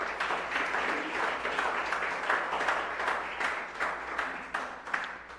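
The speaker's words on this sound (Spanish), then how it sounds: "Den un aplauso al Señor" A church congregation claps at the close of a sermon, a close, lively burst of applause with individual claps standing out, carrying on for several seconds with a slight swell near the end.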